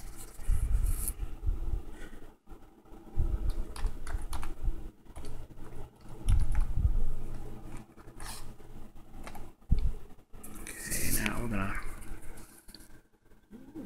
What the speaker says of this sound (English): Let's just type in a password.